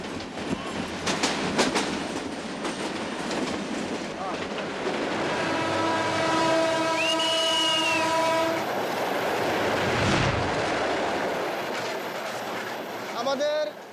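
Passenger train running through Bangladesh, with steady rumbling wheels, rail clatter and a long sustained horn blast in the middle. The horn is close and loud, while speech sits underneath the train noise.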